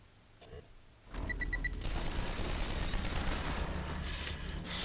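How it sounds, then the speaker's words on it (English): Shotgun blasts in the horror video game The Evil Within, a sudden loud burst of gunfire and crashing noise that fills the scene after a brief quiet start, with dense rattling impacts following. "The shotgun."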